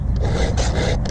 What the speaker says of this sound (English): the last like two strokes on the tooth are really light, sort of like polishing passes